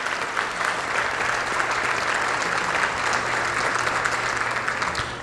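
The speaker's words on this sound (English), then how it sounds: "Let's give all of our great sponsors a round of applause." A school district event audience claps steadily for sponsors throughout, a dense wash of applause that stays at an even level from start to finish.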